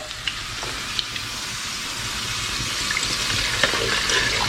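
Spices sizzling and frying in oil in a pan while preparing crispy noodles in gravy with abalone, a steady close hiss with faint scattered crackles throughout.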